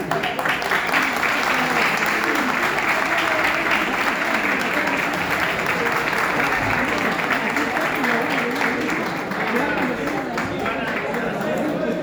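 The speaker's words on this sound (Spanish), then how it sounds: "Estamos esperando un aplauso." Sustained audience applause fills the room at a steady, loud level throughout, with crowd chatter mixed in beneath the clapping.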